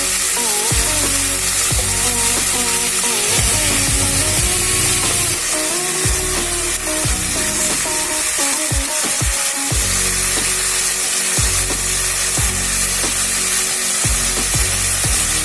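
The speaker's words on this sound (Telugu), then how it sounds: "చూడండి, టమాటా ముక్కలు కొంచెం వేగాయి" Tomato pieces, ginger and red chillies fry in a pan for a red chilli tomato chutney, a continuous bright sizzle with scattered clicks and scrapes underneath and no talking.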